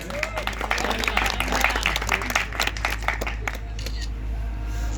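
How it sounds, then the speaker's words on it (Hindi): Spectators at a badminton competition during a martyrs' fair clap in welcome, sharp crisp hand claps crowding together, then thinning and fading toward the end. "आप लोग सभी लोग तालियों से स्वागत करें।"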